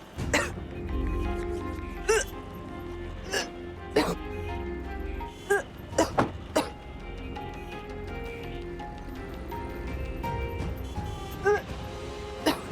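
A woman fakes retching as if about to vomit during a car ride, making repeated harsh throaty gagging bursts at irregular intervals over a low vehicle rumble, with other voices talking around her.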